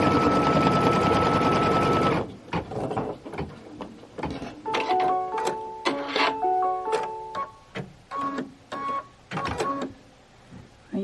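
A home embroidery sewing machine runs steadily for two seconds stitching a bow tack-down line for a Kimberbell Cup of Cheer project, then stops, followed by a series of short clicks and beeping tones from the machine.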